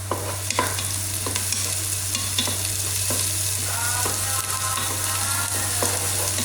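Onions sizzle and fry in a pan while a utensil stirs them, the scraping strokes landing in an irregular rhythm over a constant close sizzle.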